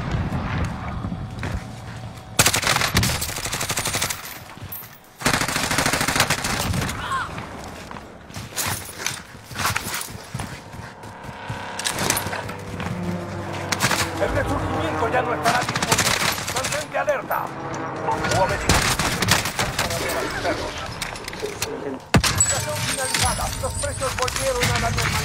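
Rapid automatic gunfire in Call of Duty Warzone rattles in repeated loud bursts, mixed with footsteps and game effects, with voices talking over parts of it.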